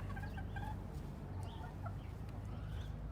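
Chickens in a zoo exhibit cluck and murmur in a soft, continuous chorus, several birds close by with scattered short calls over a low background hum.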